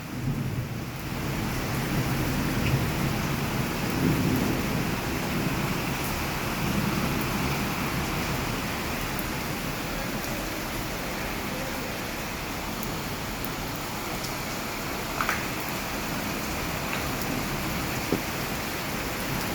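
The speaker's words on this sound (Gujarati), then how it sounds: "જોરદાર અત્યારના ફ્લો વધ્યો છે વરસાદનો" Heavy rain pours in a steady, dense hiss throughout during an unseasonal storm in Rajkot, with a deep low rumble of thunder early on, loud and close with no talking.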